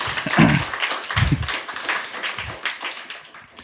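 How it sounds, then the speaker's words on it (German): Applause from a small audience at a tech talk, a short burst of clapping from a few hands, close and fairly loud, fading out over a few seconds. "dein Applaus"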